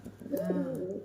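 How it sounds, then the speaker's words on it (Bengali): Close by, a Lakshmi fantail pigeon at a family home gives a single rolling coo that swells and holds for under a second. "দেখো এগুলো হচ্ছে লক্ষ্মী পায়রা"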